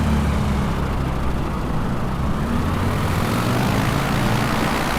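A propeller airplane engine runs up to full power with flaps set for takeoff in a flight simulator game, a steady loud droning roar that holds throughout with no talking.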